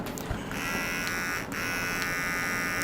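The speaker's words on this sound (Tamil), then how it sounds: "லாங் ப்ரெஸ் பண்ணால் தான் வந்து இந்த ட்ரிம்மர் வந்து ஆன் ஆகுது" A Beardo electric trimmer with titanium-coated blades switches on and runs, giving a steady, close mechanical buzz with a slight dip partway through.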